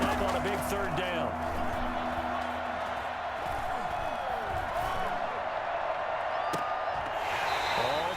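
A football stadium crowd in the Madden NFL 21 video game roars steadily throughout, a dense continuous swell of cheering with scattered whoops, while commentary-like voices run underneath.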